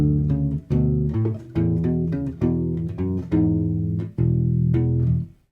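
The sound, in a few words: U-bass playing measures 10-11 of a main theme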